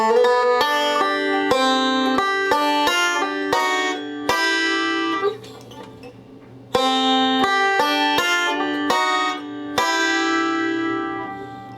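Bright banjo notes picked in quick forward-roll patterns, two phrases separated by a short ringing pause, close and clear.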